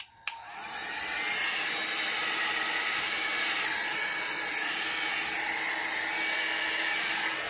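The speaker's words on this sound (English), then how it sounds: "I'm going to take my dryer. Now, I'm going to blow this around" A hair dryer blows steadily and loudly after a short click at the start, drying alcohol ink on a card, a continuous airy roar with a bright hiss that holds for several seconds.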